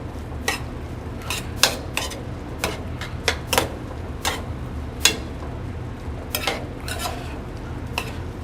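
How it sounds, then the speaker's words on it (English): Apples sautéing in butter in a pan, a low steady sizzle under repeated sharp clicks and scrapes of a utensil stirring against the pan, close up and irregular in rhythm. "Now add a little butter. I'll let them start to saute."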